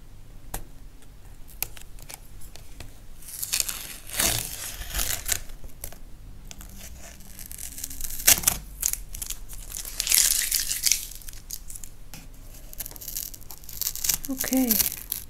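Paper is picked and peeled up at its edge in a series of short rips and crinkles, with brief sharper tears scattered through the stretch and a quiet room underneath.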